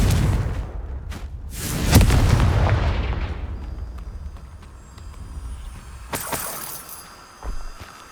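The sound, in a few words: Confringo explosive spell blast, Hogwarts Legacy video game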